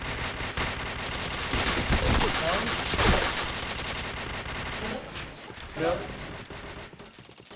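Rapid automatic gunfire in the shooting game Point Blank, dense overlapping shots for several seconds that thin out toward the end, loud and close, with a player's brief exclamation over it.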